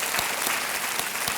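A studio audience on a Hindi TV quiz show applauds with brisk, dense, steady clapping that fills the whole brief moment.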